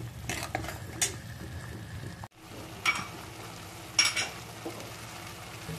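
Cashew paneer masala gravy is stirred in a pan, a spoon scraping and clinking in uneven strokes over a steady low sizzle, close and moderately loud throughout.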